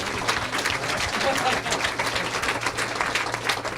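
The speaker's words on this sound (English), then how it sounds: "Let's give him a round of applause" A large audience at a panel discussion on race in America gives a sustained round of applause. The clapping is a steady, even wash heard from a moderate distance throughout.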